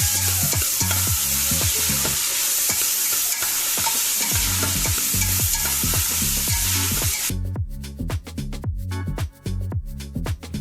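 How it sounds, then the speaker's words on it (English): Seasoning vegetables sizzle in hot oil in a large pot, a loud continuous frying hiss with rhythmic stirring scrapes throughout, the hiss easing near the end while the stirring continues. "Add in your seasoning veggies and cook just enough to soften a bit."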